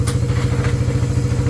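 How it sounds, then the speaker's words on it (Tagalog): Stock motorcycle engine with a steel bore idling quietly, a steady low rhythmic thrum with light mechanical clatter close by, no talking. "Tahimik pa ng makina."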